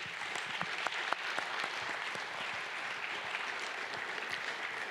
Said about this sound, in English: Let's give a round of applause for Elliot Soloway.